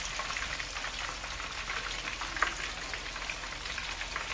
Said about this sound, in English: And these are just frying for about 3 to 4 minutes on a medium low heat.